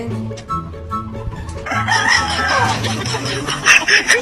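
A rooster crows once amid a busy farmyard mix of clucking and other bird calls, fairly close and loud.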